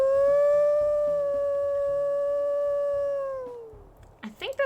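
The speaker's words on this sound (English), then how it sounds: "Let's go ahead and listen to her howl." A single long wolf howl from the video game WolfQuest, loud and steady, then falling away at the end, followed by brief rustling.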